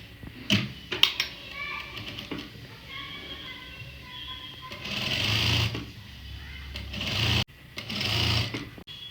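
Sewing machine stitching a salwar in bursts, its rapid mechanical whir starting and stopping several times with brief clicks and handling noises between runs, close and fairly loud.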